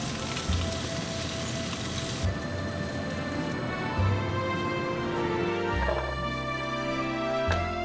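Food frying in hot oil until crispy, a dense continuous sizzle and crackle close up, with low thumps from handling the pan and utensils.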